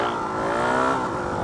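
Motorbike engine revving hard in first gear for a wheelie, a loud close continuous drone whose pitch climbs then levels over a second and a half.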